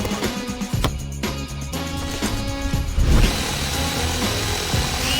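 A cartoon power drill whirs and grinds in a busy, dense burst layered with clanking and ratcheting mechanical effects, loud and continuous, with no talk.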